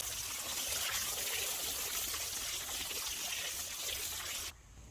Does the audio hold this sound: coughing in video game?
no